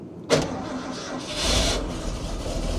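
An older truck engine cranks briefly and catches, then settles into a steady idle, heard up close with no talking.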